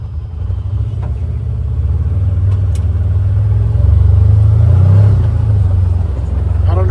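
A Can-Am Defender HD10 side-by-side with a faulty fuel pump takes off in high gear, a steady close low engine rumble that swells slightly mid-way, with some talking in the background.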